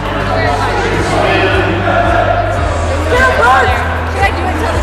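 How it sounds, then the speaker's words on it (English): An excited crowd fills a high school basketball gym with loud, steady babble and cheering, close and constant, while a voice talks over it and a ball bounces now and then. "as you hear the crowd getting lit out there, excited"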